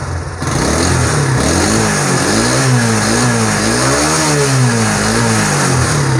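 A 2015 Chinese CD70 motorcycle engine is revved up and down repeatedly at close range. The pitch rises and falls in smooth waves over a constant mechanical drone.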